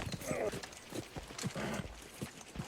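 Horse hooves clip-clop in a steady, rhythmic walking beat during a ridden scene from the TV series Game of Thrones, moderately close, with faint background ambience.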